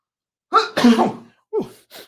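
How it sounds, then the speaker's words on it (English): A single sharp sneeze rings out close by, followed by a couple of short, softer breathy sounds. "I'm sneezing today."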